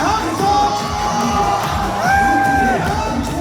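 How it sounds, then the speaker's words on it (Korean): A crowd of children and parents raises a cheering shout at a Christmas event, several voices whooping and yelling together at a steady loud level for a few seconds. "함성"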